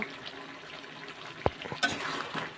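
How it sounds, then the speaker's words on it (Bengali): Broiler chicken pieces being stirred in a pan with ground cardamom paste give quiet scraping and soft sizzling, with a sharp clink of the spoon partway through and a brief rise in frying noise afterward. "এলাচটা আমি ভালো করে মাংসের সাথে নেড়ে চেড়ে মিশিয়ে দিলাম"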